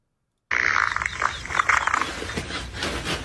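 A frightened dog lets out sudden, loud, rough vocalizations that start abruptly after a moment of silence and continue in uneven bursts, close to the microphone.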